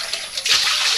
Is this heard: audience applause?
no